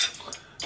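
Chopsticks and tableware clink and rattle while dishes are cleared up after a meal, a few brief light metallic taps close by with no voices.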